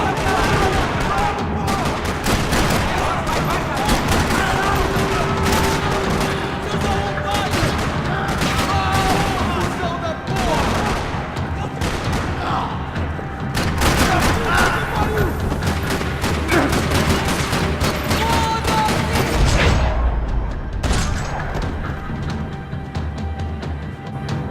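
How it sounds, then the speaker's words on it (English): Gunfire in a parking lot in the video game Max Payne 3, dense rattling bursts of automatic fire and heavy shots continuing throughout, loud and close, with voices speaking in places. "Another parking lot rattling with gunfire."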